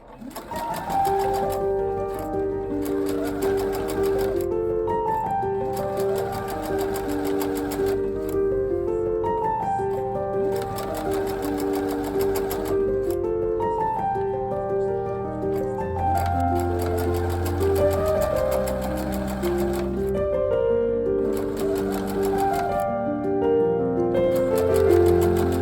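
Sewing machine stitching bodices and skirt pieces together for two dresses, running steadily and loudly for the whole stretch with a continuous whirring drone and no pauses.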